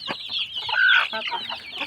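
Backyard chickens cluck close by in a quick run of short calls, one rising into a louder, drawn-out squawk before settling back into soft clucks.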